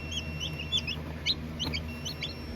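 A chicken clucking near a hatching egg on a farm, a series of short repeated clucks and chirps over steady background hum, no talk.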